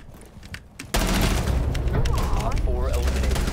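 Sustained rapid gunfire bursting through a wall in Rainbow Six Siege, erupting suddenly after a quiet moment and continuing loud and dense, with players talking over it.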